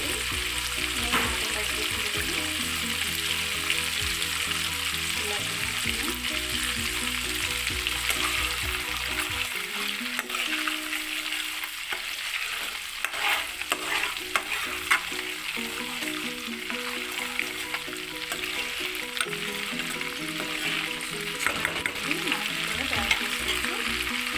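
Butter simmers in a pan as it turns into homemade ghee. A dense, steady sizzle and bubbling fry noise runs without a break, with occasional stirring clinks and scrapes, close up, and almost no talking.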